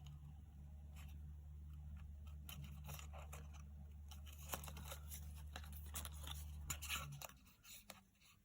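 Scissors snipping through paper in short irregular cuts, close by, over a steady low hum that stops near the end.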